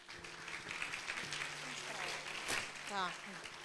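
A family gathering for a 50th birthday breaks into applause to welcome a guest. The clapping is moderate and sits under continuous nearby talk and background chatter.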